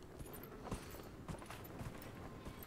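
Faint, steady clip-clop of horse hooves in Dragon Age Inquisition, walking across the Hissing Wastes in an even rhythm of soft, distant thuds.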